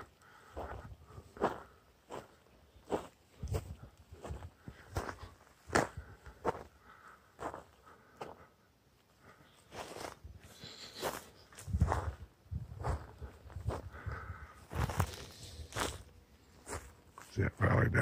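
Crunching footsteps on dry ground in Theodore Roosevelt National Park, irregular steps close by, with a person talking intermittently over them.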